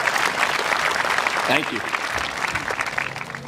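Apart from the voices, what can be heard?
audience applause at graduation ceremony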